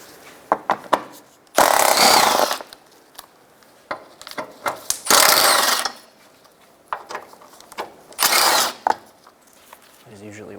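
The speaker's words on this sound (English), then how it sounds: "To remove the undershield, start by taking out these 4 12mm bolts." Power tool driving out 12mm bolts from the undershield of a 2012-2016 Subaru Impreza: three loud bursts of whirring lasting about a second each, with clicks and clinks of handling between them, close up.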